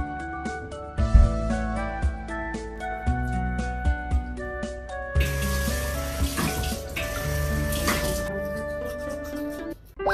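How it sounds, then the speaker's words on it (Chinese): Water runs and splashes in a shared shower room at a Japanese internet cafe, a steady stream hitting the floor under echoing bathroom ambience, with intermittent knocks and a brighter louder gush midway. "走喽，我们现在洗澡去。"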